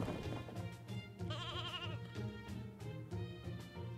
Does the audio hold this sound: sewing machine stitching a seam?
no